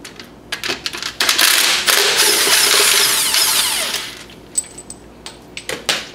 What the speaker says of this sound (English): I'm just going to use an impact